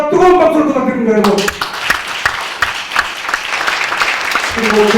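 Audience at a joint symposium on everyday carbon-emission reduction breaks into loud, sustained applause after a brief voice, the dense clapping filling most of the stretch before talk resumes at the end.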